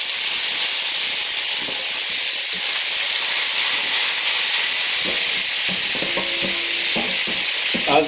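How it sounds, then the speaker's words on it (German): Ground meat is frying in a pan, giving a loud, steady, close sizzle with occasional stirring scrapes and clicks toward the end, and no talking. "auch das Hackfleisch darf ich jetzt anbraten"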